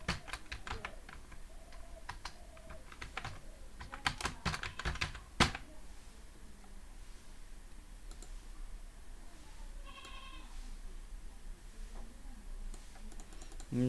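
Computer keyboard keys tapped while entering a name in Photoshop, irregular bursts of crisp clicks with pauses between, fairly close and quiet, with a single louder key strike near the middle.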